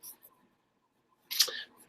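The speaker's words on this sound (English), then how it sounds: "may hear some clicking in the background. I'm just loading up my email." Mouse clicks on a computer while email loads, a short quiet burst of small dry clicks near the end after mostly silence, with a few faint ticks at the very start.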